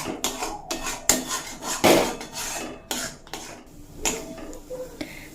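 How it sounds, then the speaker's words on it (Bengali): A spatula stirs mashed kakrol (teasel gourd) in oil in a wok, giving a steady run of close scraping and clattering strokes against the metal pan, loud and irregular with no talk. "এরপর ততক্ষণ পর্যন্ত নাড়তে থাকতে হবে যতক্ষণ না পর্যন্ত তেল ছেড়ে দিচ্ছে"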